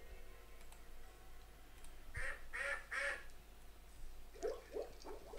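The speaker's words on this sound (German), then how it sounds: "Die ganze Zeit das Entengeschrei." Cartoonish duck quacks from the adventure game Sam & Max Hit the Road, three bursts close together, then a few more quacks later, over a faint steady background hum.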